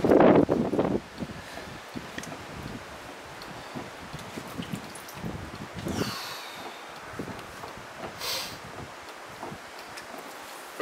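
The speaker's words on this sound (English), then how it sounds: "there's quite a wind out there getting up" Wind blows outdoors near a pottery studio, a steady broadband rush with a louder gust at the start and soft rustling and bumping throughout; no one speaks.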